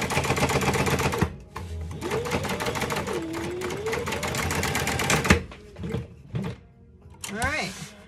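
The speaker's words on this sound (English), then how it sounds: "I sew at 1/4 inch." A sewing machine stitches a tote bag pocket at a quarter-inch seam in fast rattling runs with pauses, alongside handling thumps and a voice speaking in the gaps.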